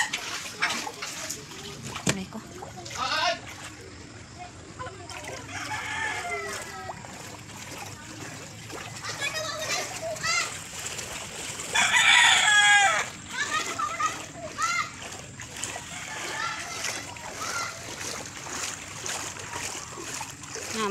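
Floodwater splashes and sloshes continuously into a house while people talk over it, with louder surges of splashing now and then.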